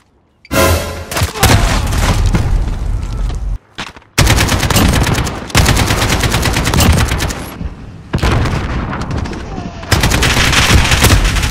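Rapid automatic AK rifle fire in the shooter game Modern Warfare, a variable-zoom optic fitted, loud and close, sustained bursts broken by brief pauses and a reload gap.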